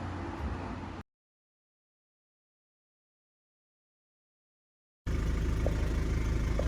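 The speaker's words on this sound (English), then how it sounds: "Let's get the engine running and the roof popped." A Mazda Bongo camper van engine idles close by, a steady low rumble with a brief knock, cut off by a long stretch of dead silence before the idle resumes.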